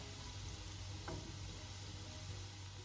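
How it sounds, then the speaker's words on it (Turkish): Garlic sautéing in a pan while being gently toasted for green olive kavurma, giving a steady, close sizzle with a faint stir or clink around the middle and no voices. "çok yanmayacak şekilde sarımsakların biraz kavrulmasını bekliyorum"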